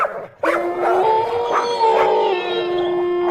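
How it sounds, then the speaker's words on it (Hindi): Distant dogs: one howls in a long, wavering tone after a brief sharp yelp, the cry rising and falling over a few seconds with no one talking. "दूर कहीं कुत्तों के भौंकने की आवाज"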